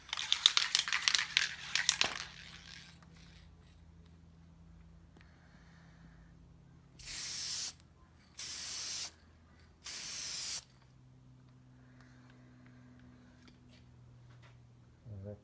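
An aerosol can sprays a second coat of paint on a 1989 Nissan Patrol, three evenly spaced, sharp hissing bursts of about a second each, preceded by a can being shaken with rattling clicks over a quiet background hum.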